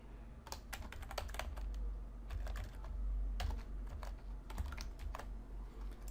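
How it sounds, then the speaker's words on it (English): Fast, continuous key clicks from a computer keyboard as a username is typed into a web form, steady and close over a low background hum, with no speech. "Let's enter username."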